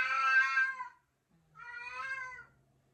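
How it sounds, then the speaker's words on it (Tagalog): A pet cat meows twice for attention, two clear, close, drawn-out calls separated by a short pause, with no other sound around them. "Papapansin yung aking pusa."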